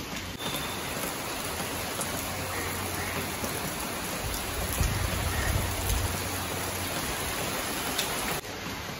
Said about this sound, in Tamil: பாண்டிச்சேரியில் ஒரு மிதமான மழை பெய்யுது.